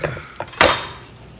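Beef suya pieces are moved into a bowl with a few quick clinks and scrapes of utensil against dish, the last clatter the loudest, close and brief.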